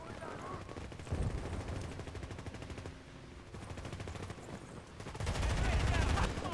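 Rapid automatic gunfire in the video game Medal of Honor, bursts of repeated shots that swell and fade, loudest near the start and end, with no voices.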